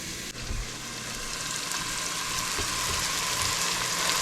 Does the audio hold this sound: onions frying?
yes